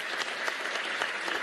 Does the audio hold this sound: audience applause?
yes